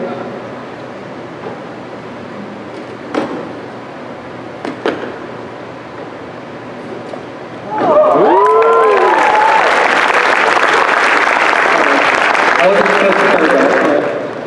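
Quiet room noise with a few soft knocks, then loud audience applause breaks out at a convention evening show and continues steadily, with a few voices rising through the clapping.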